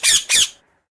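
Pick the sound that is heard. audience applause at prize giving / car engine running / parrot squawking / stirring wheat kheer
parrot squawking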